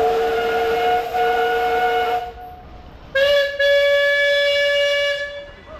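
Whistle from an antique steam traction engine, driven by the Peterson family in a parade at the Northern Illinois Steam Power Show in Sycamore, Illinois. Two loud, sustained, harmonic blasts sound with a brief gap between them, over a background of engine noise.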